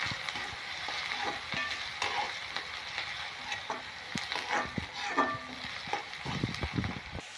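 Onion and green chili fry in a pan for a smoky brinjal bharit, giving a continuous close sizzle broken by the scrape and clatter of stirring.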